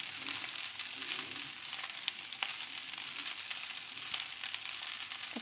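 Cabbage sautés in a pan for homestyle Chinese fried rice, giving a soft, even hiss with a few sharp clicks and taps from utensils, fairly quiet and without talk.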